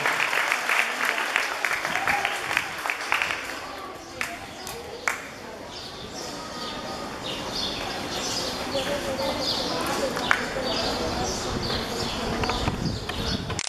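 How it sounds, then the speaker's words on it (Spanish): A crowd at a school diploma ceremony applauds for children, clapping rising and continuing as a scattered, fairly faint patter, with a voice talking over the start and outdoor background noise throughout. "Un fuertes aplausos a estos niños"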